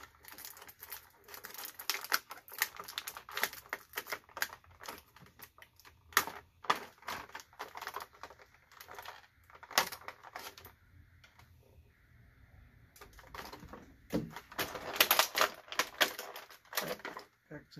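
Plastic action figure packaging for a Masters of the Universe Masterverse Revelation Beastman being cut open at the back, a long run of close crinkling, snipping and rustling with brief pauses and no speech.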